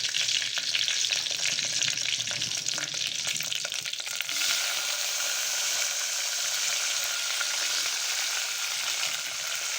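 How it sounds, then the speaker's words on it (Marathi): Chopped onion tipped into hot oil already seasoned with cumin, a loud dense sizzle that swells after a few seconds of scraping and stirring, then holds as a steady crackling hiss with no talking. "तो कांदा मी तेलामध्ये टाकणार आहे"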